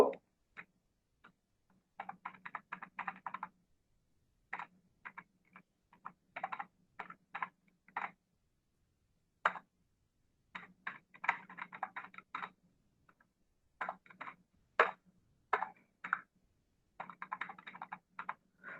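Computer keyboard typing C code in the Code::Blocks IDE: quiet, close clicking keystrokes in quick irregular bursts, separated by short pauses.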